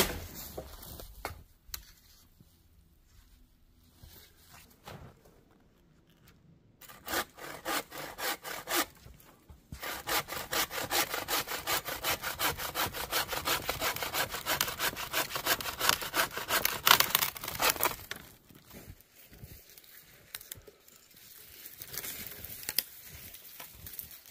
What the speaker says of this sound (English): One thing with these hand saws, you got to kind of let the saw do its work.